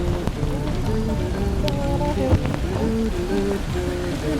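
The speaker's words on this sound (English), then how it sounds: "Whenever the weather is like this, where it's not cold, but it is raining" Rain falls steadily on a mild, not cold day, a continuous close hiss of drops that runs under faint tonal sounds throughout.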